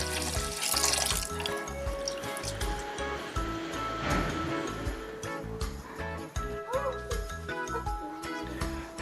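Chana dal is washed under running water for shami kabab, the tap flowing steadily with splashing and light clinks of the lentils and bowl throughout.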